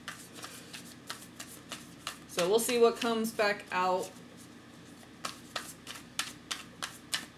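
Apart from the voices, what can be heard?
shuffling tarot cards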